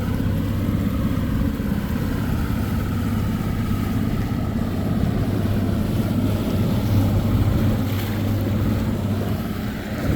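Steady wind buffeting outdoors on a wet, rainy day at Clarks Hill lake, a constant low roar with rushing gusts and microphone rumble, continuous for the whole stretch with no talking.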